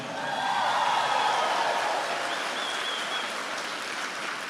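A church congregation applauds after a sermon, a dense wash of many hands clapping that starts strong and slowly thins out over several seconds.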